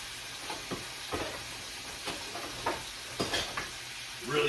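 Beef sears in a pan for steak and potato soup, giving a fairly quiet steady sizzle with intermittent stirring scrapes and clatters, and a brief louder rustle near the end.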